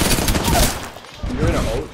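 Hemlock rifle firing in single-fire mode in the Apex Legends video game, a dense run of loud, sharp shots that breaks briefly near the middle and then resumes.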